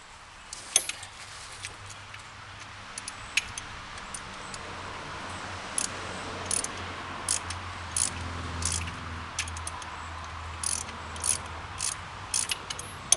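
Wrench and ratchet work on rusted front brake bolts of a 2010 Dodge Challenger SRT8, heard as scattered metallic clicks and short ratcheting bursts over a low steady hum, fairly quiet and close.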